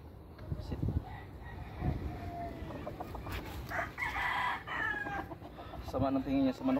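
Chickens cluck and murmur nearby over a busy outdoor background, with a rooster-like call and scattered bird noises, as a dog sits and watches them.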